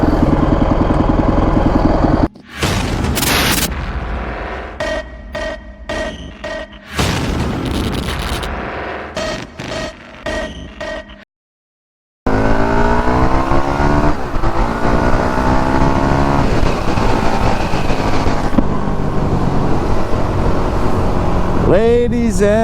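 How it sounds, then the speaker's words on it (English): Honda CRF450X dirt bike ridden on errands, its loud engine roaring and revving with repeated throttle bursts and brief drops, one short pause of near silence midway, then sustained running. "We're on the dirt bike, the 450."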